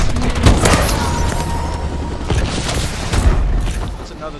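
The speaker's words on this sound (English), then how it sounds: "Enemy missile strikes." Explosions and gunfire from a Call of Duty: Advanced Warfare battle, with missile strikes landing: dense, continuous rumbling booms and crackling shots throughout, with louder blasts standing out near the start and again late.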